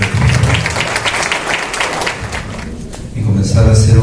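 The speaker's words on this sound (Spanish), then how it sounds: "señor rector, el doctor Orestes Cachai Bosa, a quien le damos la más cordial bienvenida y un aplauso de parte de todos ustedes." Audience applause at a faculty anniversary ceremony greeting the university rector, a steady wash of clapping mixed with voices, dipping briefly before swelling louder near the end.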